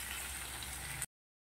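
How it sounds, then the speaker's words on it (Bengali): Onions frying in a pan for chicken biryani over high flame give a dense, steady sizzle with crackle, fairly loud, lasting about a second before cutting off abruptly. "দেখো পেঁয়াজগুলো আরও ভাজতে হবে, ক্রমাগত নাড়তে হবে"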